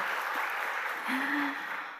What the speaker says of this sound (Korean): 우리 박수 한번 쳐드릴까요?